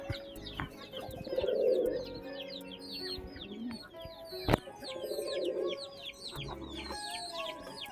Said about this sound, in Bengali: কালকে মোট 3টে কবুতর এনেছি কালকে